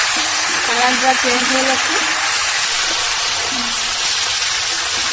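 Raw mango pieces lightly frying in a pan for a sweet-sour mango pickle, a loud constant hiss and sizzle filling the whole clip while someone speaks over it.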